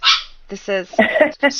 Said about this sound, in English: that is my dog who is jealous that I'm doing a show without her.